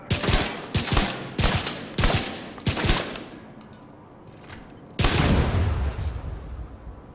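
Rapid weapon fire and a burst of explosions in The Division 2, a run of loud staccato shots at a steady rhythm, a brief lull with faint sounds, then a heavy blast that rumbles on with trailing debris.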